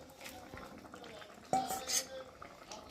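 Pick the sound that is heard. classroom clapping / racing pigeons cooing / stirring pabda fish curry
stirring pabda fish curry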